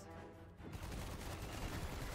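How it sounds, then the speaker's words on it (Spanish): A dense, rapid burst of crackling shots erupts after a short quieter moment, continuing as a sustained machine-gun-like barrage of rapid-fire spell shots in the video game Forspoken. "esto es como de ametralladora"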